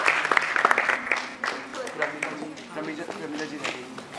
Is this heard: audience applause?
yes